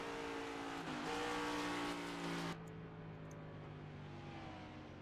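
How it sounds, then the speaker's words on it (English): A NASCAR Next Gen race car in a racing video game whines at high revs, then drops sharply in pitch as it downshifts, the engine settling to a lower, quieter drone for the rest of the moment. "See him downshifting there to really get that car to slow down."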